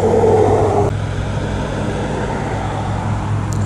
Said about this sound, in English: as if the cars weren't noisy enough